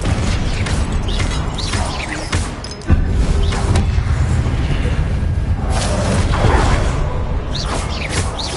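Confringo fire spell from Hogwarts Legacy erupting in a blast: a dense, continuous rumbling game soundscape with a sharp, sudden burst about three seconds in.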